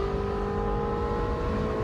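A Ferrari 458 Spider's engine pulls hard at partial throttle, a loud, continuous high-pitched wail with a steady tone and no pauses.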